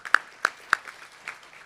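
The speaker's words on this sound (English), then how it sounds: "How about a round of applause for them?" A few sparse, separate claps from an audience at a citizens recognition awards ceremony, honoring award recipients; roughly three sharp hand claps in quick succession, then softer scattered ones, moderately near, with no talking.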